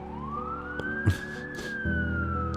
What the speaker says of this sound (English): almost drowned by the sirens growing louder in the distance